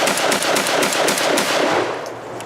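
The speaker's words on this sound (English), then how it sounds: "After about a box of low brass, it seemed like it really started to smooth out, and we were able to get through a full 10-round magazine without trouble." Rapid string of shotgun blasts from an Armagon G12 AR15-style shotgun firing low brass shells, about ten loud, closely spaced reports merging into a sustained burst that tapers off at the end.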